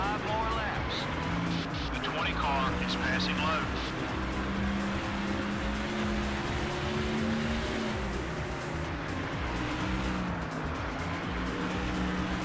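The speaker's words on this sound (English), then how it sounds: "Here comes the field, racing back into turn 1." Race cars in NASCAR Thunder 2004 roaring around the track in a steady, continuous engine drone with shifting pitch and faint tire squeals; a voice talks over the racing.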